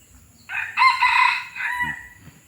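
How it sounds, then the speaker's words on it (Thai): A young hybrid red junglefowl rooster, about twelve months old, gives one clear, loud crow that rises, holds and trails off, close by with no talk over it. "นั่นคือเสียงของ"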